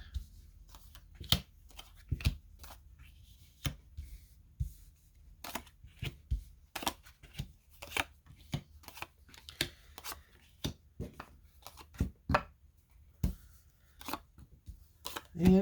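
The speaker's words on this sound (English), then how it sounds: "shuffling and cutting the deck for your sake." A tarot card deck being shuffled and cut by hand, a string of crisp, uneven snaps and riffles close to the microphone, alone without talking.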